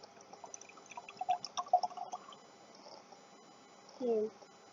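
Colored water is poured into a container to show the water level, giving soft splashing and trickling that builds to a brief fuller pour near the end, with faint background noise throughout.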